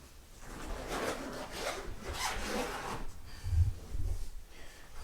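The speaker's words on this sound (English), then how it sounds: "But let's unzip this." A zipper is drawn along a worn soft guitar case for an Explorer Korina guitar, giving a continuous close raspy rubbing sound over several seconds.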